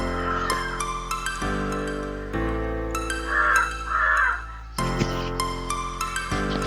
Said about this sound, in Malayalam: എന്നോടൊപ്പം കാക്കകളും ശബ്ദിച്ചു തുടങ്ങിയിട്ടുണ്ട്